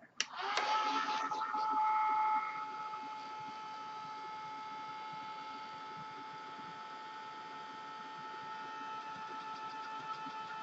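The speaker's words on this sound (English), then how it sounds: "So I think I'll hit it with the heat gun for a minute." A heat gun dries water-soluble colours on background paper, giving a steady, close blowing whir with a faint motor whine that holds on after a brief louder start.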